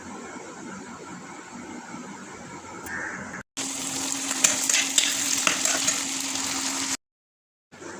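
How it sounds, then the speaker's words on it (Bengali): Onions sizzle and crackle in a hot pan while being fried to a reddish brown for a Bengali masala, a steady loud hiss broken by a short gap, then a brighter burst of frying that cuts off abruptly. "পেঁয়াজটা লাল লাল করে ভেজে নেব"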